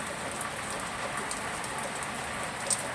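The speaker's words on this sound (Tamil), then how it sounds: "கோடை மழை." Steady summer rain falls and patters on surfaces, a constant soft hiss with occasional sharper drops. It stays even and moderately loud throughout, and no one speaks.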